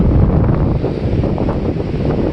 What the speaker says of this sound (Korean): 바람 지금 소리 나는 것처럼 엄청 심하게 불고